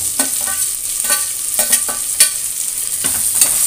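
Sliced onions and green chillies fry in hot oil in a pan for egg biryani, a steady close sizzle broken by repeated scraping clicks as a spoon stirs them.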